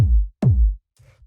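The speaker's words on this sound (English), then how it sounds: "just got this like fat 909 style kick in here" Two fat, punchy 909-style kick drum hits processed with EQ and drum bus, each booming and decaying quickly, followed by a faint low tail, alone.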